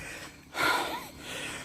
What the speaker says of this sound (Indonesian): sangat mendengar suara napas saya